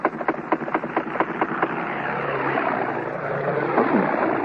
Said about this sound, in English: That's the way a fighting aircraft really sounded in World War I.